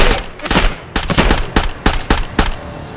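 Rapid bursts of automatic gunfire in the Escape From Tarkov shooter game, loud sharp shots in quick irregular clusters, some close and some spaced apart, with no talking.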